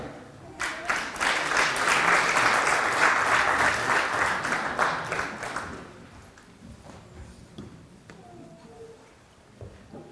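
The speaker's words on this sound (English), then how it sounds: "Let's give them a good round of applause." Audience at a Martin Luther King Jr. oratorical contest claps loudly for several seconds, then the applause fades into a quiet hall with scattered noises.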